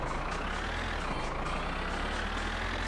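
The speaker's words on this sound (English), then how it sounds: "Is it me or is the tractor louder in this game than it used to be?" A tractor engine in My Winter Car drones steadily and loudly, a continuous rumbling motor noise with no breaks.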